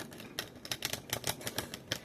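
A thick, sticky oracle card deck being shuffled, a quick run of crisp papery clicks and riffles, close and fairly faint, with no talk.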